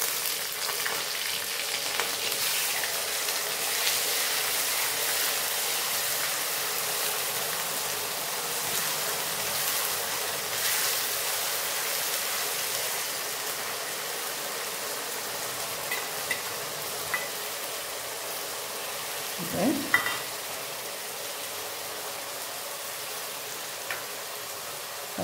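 Onion paste frying in oil in a pan over a lowered flame, with a soft, even crackle and hiss that holds steady throughout, a brief scrape near the end and no voices.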